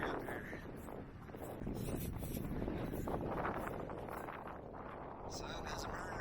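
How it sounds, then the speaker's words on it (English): Strong gusty wind roars over the microphone at dawn on the Kaibab Plateau along the Arizona Trail, a continuous buffeting rumble that swells and eases, with no voices. "Very blustery up here."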